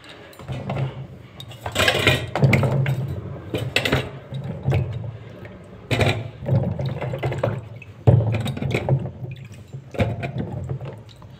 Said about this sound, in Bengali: পরিষ্কার জল দিয়ে ভালো করে লেবুগুলো আমি ধুয়ে নিচ্ছি